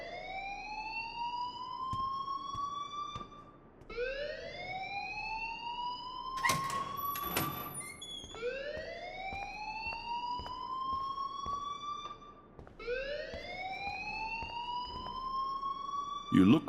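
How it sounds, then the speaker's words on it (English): A school fire alarm in the video game Life is Strange wails in long rising electronic sweeps, repeating steadily with brief gaps, loud and close, with a short burst of noise midway. "please turn off that alarm since that's your job"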